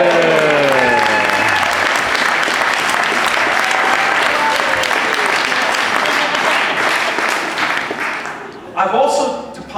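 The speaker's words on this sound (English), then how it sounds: "Let's give our non-FYC85 guests a cheer." An audience at the FYC85 30-year reunion cheers and applauds the guests with loud, sustained clapping and a crowd roar, a whoop rising at the start, before the noise tapers near the end.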